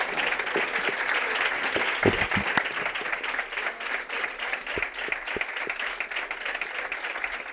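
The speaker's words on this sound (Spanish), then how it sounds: "Un aplauso para ella" Steady applause from a seated audience at a live talk on family life with type 1 diabetes, dense clapping filling the room for several seconds with a few louder claps standing out.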